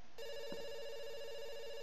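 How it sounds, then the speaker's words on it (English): A telephone ringing tone in the video game Dr. Langeskov, a steady buzzing tone starting abruptly and holding without a break, moderately loud against a faint background hiss. "It's ringing."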